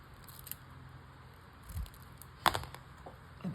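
Scissors cut a green paper frame into pieces: a few faint, sharp snips and crunches spaced over a few seconds, one louder cut near the middle, against a quiet room with no talk.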